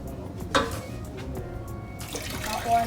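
Hot water pours into a pot on the stove for cooking sadza, a continuous splashing stream with a clank near the start, while someone talks.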